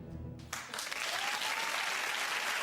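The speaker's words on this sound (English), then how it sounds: "Why are we all clapping?" A television studio audience bursts into steady applause after a brief moment of quieter sound, the clapping dense and sustained throughout.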